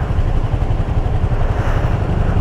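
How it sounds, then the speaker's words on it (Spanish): A loud, steady engine roar with a heavy low rumble and some wind noise, continuous throughout like a motorcycle running close by, likened to a helicopter. "esa moto es mero helicóptero, esa moto"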